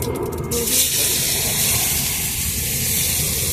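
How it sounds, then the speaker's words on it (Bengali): Chopped onions hitting hot oil in a pan over a wood fire, a steady loud hiss and sizzle that holds evenly, preceded by a brief rattling clatter. "এবার এই যে কেটে রাখা পেঁয়াজ দিয়ে দিয়েছি"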